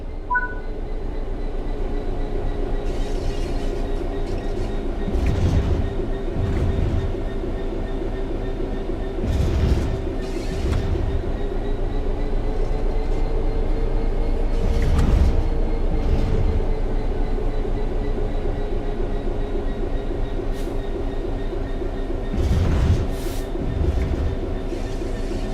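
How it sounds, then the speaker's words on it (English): Train in the Train Sim World 5 simulator coasting on level track with the throttle at zero, a steady loud rolling rumble and hum with periodic wheel clacks over rail joints, continuous and alone for the whole stretch. "The train will then coast on level ground and the train will only slow down very gradually."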